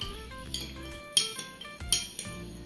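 A metal spoon stirs sugar into warm milk in a bowl, giving bright clinks against the sides, with two sharper knocks amid softer scraping, close and quiet.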